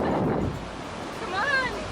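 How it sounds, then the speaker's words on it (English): Wind buffets a microphone on a beach, a steady low roar and rumble, with a faint higher tone rising briefly near the end. "But it's a bit windy."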